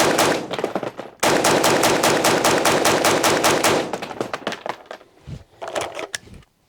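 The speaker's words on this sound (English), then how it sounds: "All right, back to shooting." Rapid strings of gunfire from a Desert Tech WLVRN rifle at an outdoor range, loud close bursts of fast shots, then a few scattered single shots trailing off.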